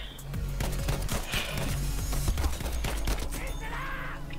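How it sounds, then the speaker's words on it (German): Dense gunfire crackles almost continuously from close range in the video game Battlefield V, with rapid overlapping shots and bursts forming a loud, busy firefight. "Warum werde ich von hinten beschossen?"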